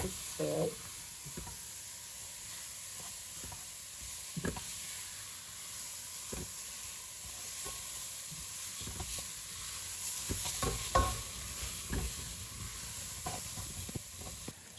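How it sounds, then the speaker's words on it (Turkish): Lentils sauté in a pan with a soft, steady hiss, broken by intermittent scrapes and taps of a utensil stirring them. "Şimdi şöyle bir kavuruyorum."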